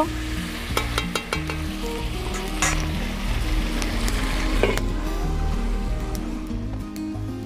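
Chicken kosha sizzles loudly in a pan while a utensil stirs and scrapes through it, with sharp clinks and crackles over a constant close frying hiss.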